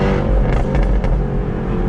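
Jaguar F-Type R engine and exhaust roaring loudly and continuously close by, a dense rumbling blare with a few sharp crackling pops in the middle.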